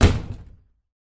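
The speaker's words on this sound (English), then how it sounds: "The front door opens and shuts." A front door in an apartment swings and shuts with a single close, solid thud that fades within about half a second, with no other sound around it.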